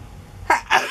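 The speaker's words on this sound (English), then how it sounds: "Oh, I feel like I'm going to sneeze." A single sharp sneeze erupts close and loud, preceded by a quick intake of breath.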